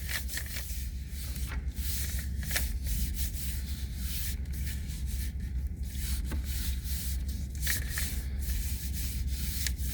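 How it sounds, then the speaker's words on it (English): A hand firmly rubs paper onto a gelli printing plate laid with leaves, giving a steady, close, dry scrubbing and rubbing sound that continues without pause. "I am going to hold with one hand and press with the other and give it a really good back rub"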